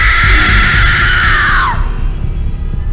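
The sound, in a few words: loud scream sound effect in horror story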